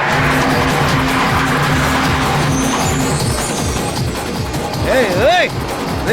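A car speeding in an action movie chase, its engine roaring loudly with a sharp, wavering tire squeal rising near the end.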